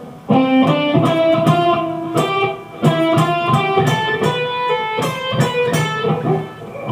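Distorted electric guitar plays a solo lick, quick hammered and pulled notes in a funky, uneven rhythm, loud and close with no talking.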